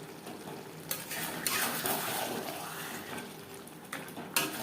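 Meat cooking on high flame in a pan for a traditional Bengali kosha mangsho, soft sizzling with stirring and scraping of a utensil against metal, a few sharper clinks, fairly quiet and without speech.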